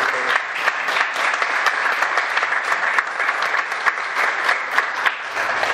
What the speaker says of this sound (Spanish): Les pido un aplauso también para ella.